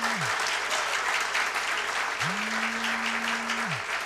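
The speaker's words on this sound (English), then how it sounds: "So I want a big round of applause for your own children." Audience of parents applauding at a primary school cultural event, a dense steady wash of clapping from a large crowd for about four seconds, with a faint low electronic tone sliding in and out beneath it.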